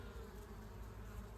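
Bees buzzing around plants outdoors, a steady low insect drone filling the short stretch with no speech over it.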